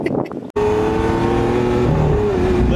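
A Lamborghini Aventador Roadster on Beverly Hills roads lets out a loud, close engine roar that cuts off for an instant, then returns as a sustained, heavy rev with a rising and falling pitch.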